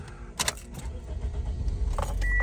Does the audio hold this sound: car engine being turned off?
yes